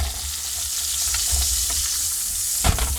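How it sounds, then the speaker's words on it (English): Pork chop basted and seared in a pan, a steady close sizzle and spatter of frying fat throughout with a few soft clinks of utensil against the pan. "So you can see basting it's fun. It's, you know, it gives moisture to the pork"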